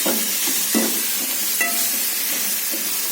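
Boiled, salted toor dal goes into a hot pan, giving a steady loud sizzle with soft stirring scrapes and occasional small pops throughout.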